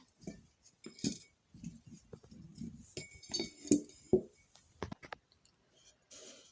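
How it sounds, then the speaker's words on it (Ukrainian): Glass jars clink and knock repeatedly as cucumbers are packed in for pickling, a close series of bright taps and rattles with brief pauses. "Тепер будемо наповнювати наші баночки огірочками."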